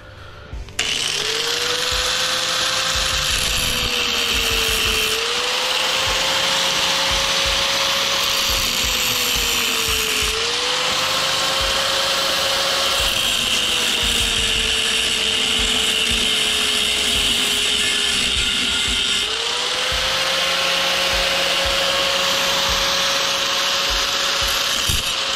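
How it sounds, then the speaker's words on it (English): An angle grinder cuts through a light fixture transformer for copper scrap, a loud sustained whine that dips and recovers repeatedly as the disc bites into the metal over about 25 seconds. "Let's take your grinder, turn her on, and we want to try to grind where this line here is."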